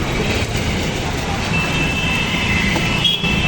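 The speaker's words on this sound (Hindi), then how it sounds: "और गाड़ियों का शोर शराबा" Continuous road traffic noise, a dense rumbling wash of passing vehicles close by, with a brief faint tone rising above it.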